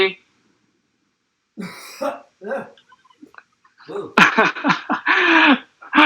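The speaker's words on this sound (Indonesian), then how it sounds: "Sampai batuk-batuk gitu." A few rough coughing bursts, then people talking and laughing nearby.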